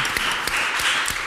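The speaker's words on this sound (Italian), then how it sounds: "Qua ci vuole un bel applauso." A studio audience on an Italian morning TV programme applauds in a bright, continuous patter of many hands, steady and fairly loud throughout.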